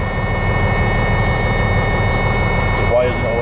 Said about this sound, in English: I'm going to start my truck.